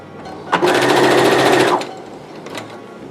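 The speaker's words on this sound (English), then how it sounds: "And grab my sewing machine." A sewing machine runs in one continuous burst of rapid stitching for about a second, closing the top piece of a bowed scrunchie, close by, with a couple of faint clicks afterward.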